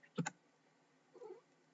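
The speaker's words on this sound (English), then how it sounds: "She's just meowing at me, and I know she wants me to do something." A pet cat meowing indoors, two quiet short sounds: a brief sharp chirp followed a second later by a soft meow, faint and alone with no talk.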